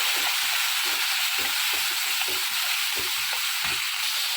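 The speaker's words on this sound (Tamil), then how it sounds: "பச்சை மிளகா பூண்டு கருவேப்பிலை எல்லாம் வதக்கலாம்" Green chillies, garlic and curry leaves sauté in hot oil for a garlic chicken gravy, giving a steady, loud broadband sizzle with faint irregular spatters and stirring clicks underneath, no voices.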